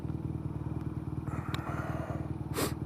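A BMW R nineT motorcycle rumbles along steadily at a low, even throb during a ride, with wind noise and a brief rushing gust near the end.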